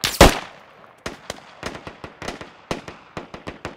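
Gunfire in the military shooter game Squad: a loud close shot at the start, then a pause followed by a string of sharp, irregular rifle cracks and bursts, some near and some more distant.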